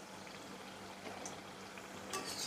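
Sweet jaggery kapnya fry in hot oil with a steady, soft bubbling sizzle, close and even throughout, a brief brighter crackle near the end; no talk.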